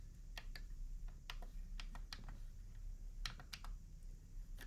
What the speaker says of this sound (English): I'm clicking each one and it's responding on the screen.